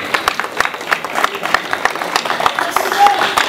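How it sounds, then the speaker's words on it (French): Clapping from an audience at a press conference, with sharp, separate claps sounding loosely and unevenly in time while voices murmur alongside. "Est-ce qu'on peut applaudir pour ce grand messie et félicitations?"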